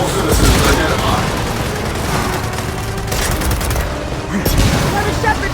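Dense, continuous gunfire and explosions from the video game Gears of War 4 rattle on without pause under in-game voices.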